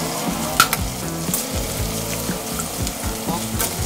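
Cornstarch-coated pork steak frying in hot oil for Kapampangan bistig makes a loud, crackling sizzle. Utensil knocks and scrapes come at irregular intervals against the pan, close up, with no talking.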